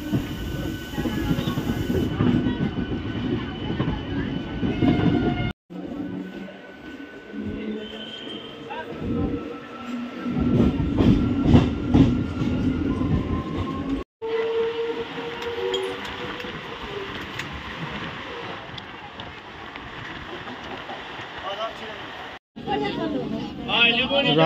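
A Howrah to Midnapore local train rolls along the rails with a continuous rumble and clatter, broken by a few abrupt cuts, while people talk over it.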